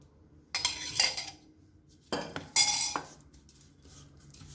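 A spoon scrapes and clinks against a bowl as dry spice masala is mixed with oil for a Gujarati capsicum sabzi, in two short bursts of close, bright scraping separated by quiet pauses.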